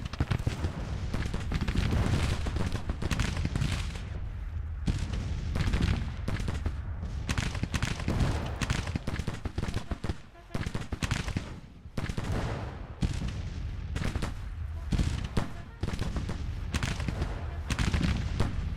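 Simulated Civil War battle in Grand Tactician: The Civil War, with dense, continuous volleys of musket fire and booming artillery rolling throughout, one brief lull in the middle, and a voice faintly underneath.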